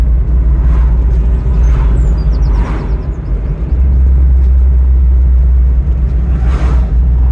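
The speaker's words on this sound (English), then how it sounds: "it's such a revvy little engine" A Rover Metro's small petrol engine runs loud and close, with a steady low rumble and a few brief rises in revs spread through the stretch.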